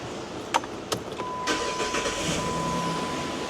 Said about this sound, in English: So let us restart the engine.